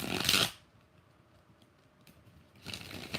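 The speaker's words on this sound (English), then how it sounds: "let's give Aquarius 3 shuffles" Tarot cards get riffled in two short, crisp bursts, one at the start and another near the end, with a quiet pause between them.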